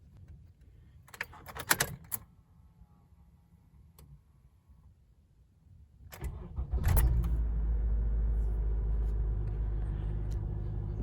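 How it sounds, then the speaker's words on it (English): A Honda car engine starts, with clicks and a door sound first in a quiet space, then the engine cranks and catches into a steady, loud low idle that holds to the end. "next morning I'm going to start the car and see what the car sounds like."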